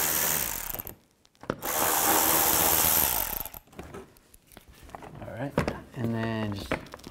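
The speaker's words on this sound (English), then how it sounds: "Use an 8 millimeter socket. Take all these out." A power tool with an 8 mm socket spins out bolts underneath a 2007-10 BMW X3 during radiator replacement, giving two loud whirring runs with a gap between, then quieter clicks before someone talks.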